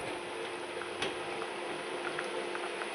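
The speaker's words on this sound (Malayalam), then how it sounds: "നന്നായി തിളച്ചിട്ടൊക്കെ ഉണ്ട്." A pot of sardine chilli curry boils steadily, giving a soft continuous bubbling hiss with occasional faint pops and one brief clink near the start, close by and without talk.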